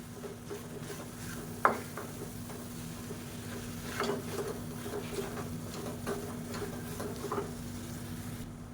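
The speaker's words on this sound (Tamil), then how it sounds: "இது எல்லாத்தையும் சேர்த்து ஒன்றா நம்ம மிக்ஸ் பண்ணி விட்டுக்கலாம்" A sweet sesame and peanut filling for kolukattai being stirred and mixed in a pan, with a faint low sizzle under soft repeated scraping and an occasional sharp clink of the spoon, quiet and close, no talk.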